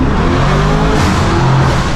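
A Lamborghini Urus engine roars loud and close on a turnpike, a dense continuous revving drone with shifting pitch as the transmission downshifts, filling the whole stretch.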